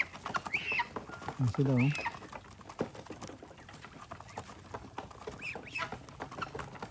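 Geese and Peking ducks call out with a few nasal honks amid rain patter, while a person talks nearby over the birds.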